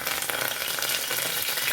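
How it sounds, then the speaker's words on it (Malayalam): Curry leaves hitting hot coconut oil in a pan while cooking beef curry, a loud, steady sizzle and crackle with no voices. "എണ്ണ ചൂടായിട്ടുണ്ടെങ്കിൽ കരുവേപ്പില ഇട്ട് കൊടുക്കാം"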